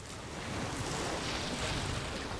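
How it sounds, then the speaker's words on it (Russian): Waves and gusty wind while sailing a small boat across a lake near Tobermory, heard as a steady, loud broadband wash of surf and wind rush with no voices. "будь то волны или порывы ветра"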